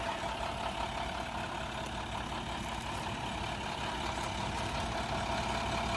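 A 2015 International 4300 utility truck's engine runs at a steady idle, a continuous, even drone close by with no talking over it.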